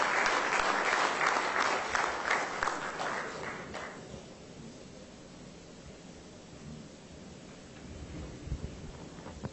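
Loud audience applause at a corporate awards ceremony in Goa, a dense burst of clapping for an award winner that lasts about four seconds, then fades into quieter room noise.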